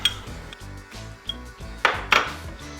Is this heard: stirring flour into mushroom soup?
yes